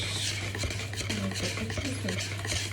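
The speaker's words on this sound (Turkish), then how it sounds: "Sonra iyice karıştırıyoruz arkadaşlar." A spoon stirs cocoa cake batter in a bowl, close rhythmic wet scraping and knocking over a steady low hum.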